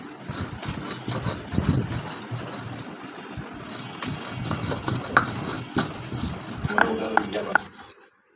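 Fried dried fish (shutki) being rubbed and mashed by hand on a stone grinding slab, giving a steady run of close gritty scraping and soft thuds that stops abruptly near the end.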